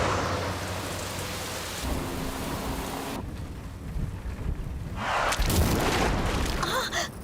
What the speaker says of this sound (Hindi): अरे बाप रे, कितनी तेज बारिश है।